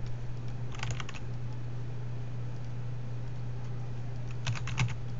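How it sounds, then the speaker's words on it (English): Computer keyboard typing while entering text into a Python block-coding editor, two short bursts of keystrokes about four seconds apart, over a steady low electrical hum. "I'm trying to type into it"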